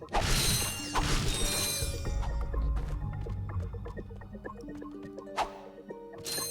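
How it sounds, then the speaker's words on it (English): Stalagmites are smashed for bolts in the video game Ratchet & Clank, a run of loud crunching breaks and metallic clatters over game music, with collect chimes and no talk. "Destroy these little stalagmites for some bolts as well."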